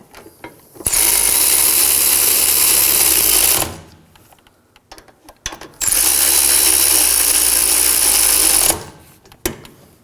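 Power ratchet snugging the rear brake caliper bracket bolts on an Acura MDX, two loud buzzing runs of about three seconds each separated by a quiet pause with small clicks.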